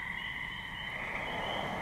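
A steady chorus of Cope's gray and eastern gray tree frogs, with Fowler's toads and northern spring peepers, trills on and on at night by ponds, a dense high-pitched drone with no pauses.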